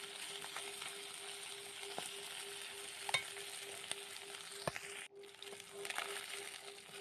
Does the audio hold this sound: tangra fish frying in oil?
yes